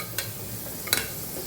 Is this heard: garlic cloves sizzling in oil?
yes